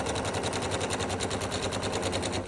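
A sewing machine stitches a straight-grain quilt binding seam in a steady, rapid, even run of mechanical clatter, close and loud, with no voices.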